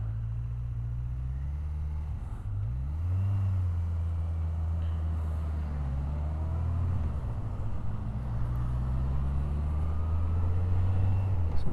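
A Yamaha XJR1300 motorcycle engine idling on choke, a steady low rumbling hum that dips and rises in pitch as the revs shift, close and continuous.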